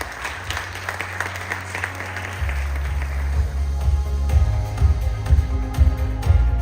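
Audience applause at a leadership conference and women's professional awards event, welcoming a speaker to the stage; a broad, steady wash of clapping that thickens and grows louder partway through, with a low hum underneath.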